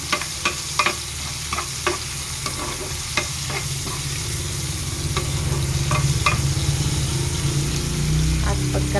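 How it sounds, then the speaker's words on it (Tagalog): A spoon stirs a sizzling garlic-and-onion sauté in a frying pan for ginisang dilis, scraping the pan in quick irregular strokes over a constant hiss. A voice speaks faintly at times. "At syempre, hahaluin natin ulit."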